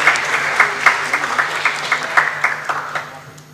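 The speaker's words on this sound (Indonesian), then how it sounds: "Boleh beri tepuk tangan yang meriah, Bapak Ibu." Audience applause at an MoU signing ceremony between Indonesia's election commission and a state agency, moderate indoor clapping from a modest crowd with distinct claps audible, gradually tapering off.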